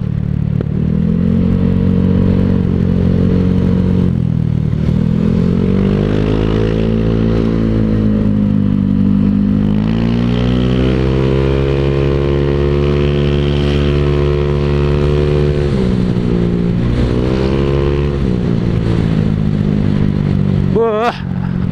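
A Honda Vario scooter fitted with an open, unbaffled exhaust revs loudly and close by, its throaty drone swelling and dropping through repeated throttle blips and sustained pulls for about twenty seconds, with no pauses.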